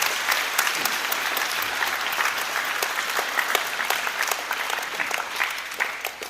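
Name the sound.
audience applause for the kids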